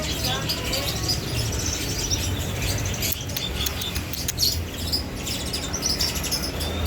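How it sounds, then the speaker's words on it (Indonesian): Young Javan pied starlings chirp steadily at a bird market stall in North Jakarta, a dense bright twittering over crowd and street noise with someone talking throughout. "Ini jalak suren, ini anakan jalak suren ini."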